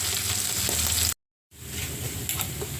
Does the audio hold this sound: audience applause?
no